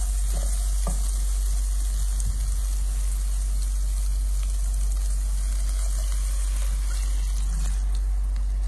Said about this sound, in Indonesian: terus kita tambahkan air